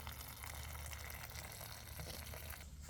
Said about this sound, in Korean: 정수기 따뜻한 물을